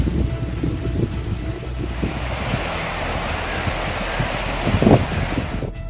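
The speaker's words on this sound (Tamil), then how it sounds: "திற்பரப்பு அருவியிலும் வெள்ளப்பெருக்கு ஏற்பட்டுள்ளதால் அருகே உள்ள சிறுவர்கள் நீச்சல் குளம், கல் மண்டபத்தை கடந்து தண்ணீர் ஆர்ப்பரித்து செல்கிறது" Floodwater surging at Thirparappu waterfall, spilling past a children's swimming pool and stone mandapam, makes a steady, broad roar that fills the whole stretch, loud and unbroken, with wind buffeting the microphone.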